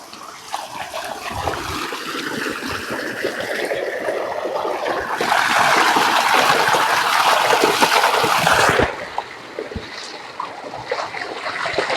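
Water runs steadily from a tap or pipe as someone fills up to drink, a broad rushing flow that swells louder midway before easing back to a thinner trickle.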